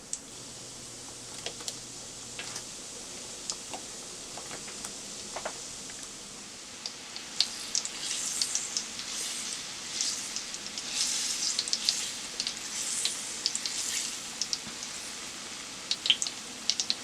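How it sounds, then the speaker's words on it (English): Small balls of glazed-donut dough frying in hot oil, a soft steady sizzle that grows denser and louder partway through, with occasional light pops and clicks. "And it's time to fry the little balls."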